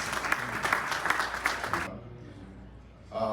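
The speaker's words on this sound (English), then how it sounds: "So please give them a round of applause." Steady clapping from a crowd for about two seconds, then it cuts off abruptly into quieter room noise before another sound begins.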